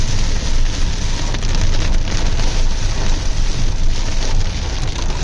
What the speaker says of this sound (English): You just see how heavily it's raining